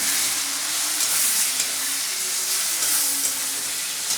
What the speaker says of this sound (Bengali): আর দিয়ে দেবো এই রেডি করে রাখা মশলাটা দিয়ে ভালো করে কষাবো যতক্ষণ না জল তেল ছাড়ে